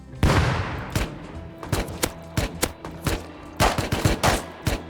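Rapid bursts of video game gunfire crack out in irregular volleys, some short single shots and some quick multi-shot bursts, loud and close, with no talking.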